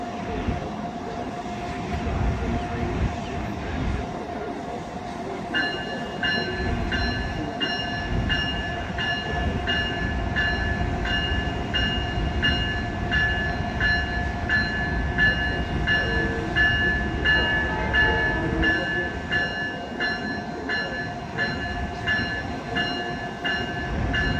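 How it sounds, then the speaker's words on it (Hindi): A high-speed train departing New Haven rumbles and rolls steadily for a long stretch, with sustained horn-like tones joining partway through and holding over the continuous rail noise. "तो ये है डिपार्चर वीडियो ट्रेन का न्यू हेवन से।"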